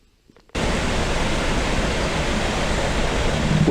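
The River Esk rushes along in a loud, steady broadband flow that starts abruptly and continues without a break, close by and filling the scene.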